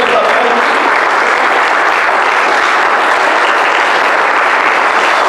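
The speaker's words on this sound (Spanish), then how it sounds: "Denle fuertes aplausos al Señor." A church congregation at an afternoon worship service breaks into strong, sustained applause, a loud and even roar of many clapping hands that holds unbroken throughout.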